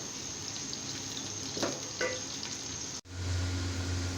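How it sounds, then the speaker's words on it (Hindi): Sliced onions fry steadily in a pan, a continuous close sizzle with faint stirring scrapes and a brief dip before the crackle resumes a little louder. "और अब हम इसको भूनेंगे तब तक जब तक ये गोल्डन इनका कलर जो है वो आ जाए।"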